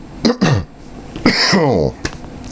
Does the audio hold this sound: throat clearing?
yes